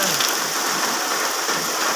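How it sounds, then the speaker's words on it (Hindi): Rain falling under dark clouds makes a dense, steady hiss of drops striking surfaces, close and continuous, with no voices. "लो जी बारिश शुरू।"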